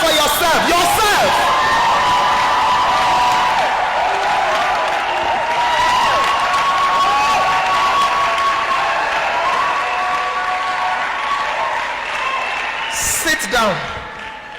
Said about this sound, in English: Stand up and clap for yourself.